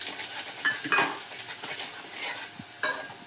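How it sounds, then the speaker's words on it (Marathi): Onion garlic masala and coarsely crushed garlic being stirred in hot oil in a pan for stuffed brinjal, a steady sizzle broken by several sharp metal spoon scrapes against the pan, close up without talk. "पुन्हा हलून घ्यायचा बघा बघा आपण थोडासा कांदा लसूण मसाला टाकतोय"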